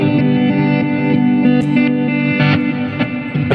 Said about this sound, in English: So again, it's all wet reverse delay.